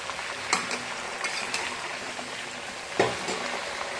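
Mango pieces are stirred slowly in oil for pickle, with a faint low sizzle under a few scraping strokes and clicks of the spoon against the pan.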